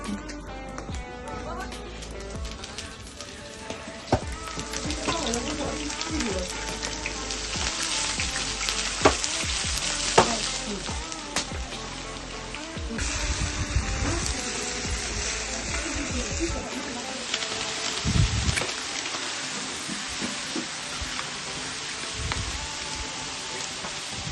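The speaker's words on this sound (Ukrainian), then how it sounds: "Підготували овочі з грибами, зараз будемо смажити." Vegetables and mushrooms sizzle steadily in a pan, a constant crackling hiss with occasional stirring clinks, under background music and some talk.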